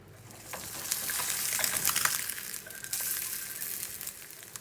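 An egg fries in a hot pan for a breakfast club sandwich, giving a steady close sizzle and crackle that swells and settles, with no talking.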